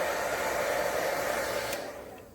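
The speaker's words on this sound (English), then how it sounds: "I'm sorry if this is loud, I can't make my hairdryer mute." Hair dryer blowing steadily nearby with a loud even whoosh and motor hum, then switching off and winding down at the end.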